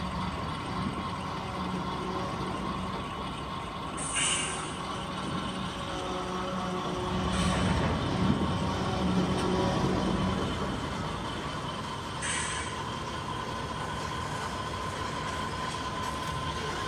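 An HO scale model train rumbles steadily while switching cars, with soft rolling noise and occasional faint metallic squeals, heard at moderate distance with no voices.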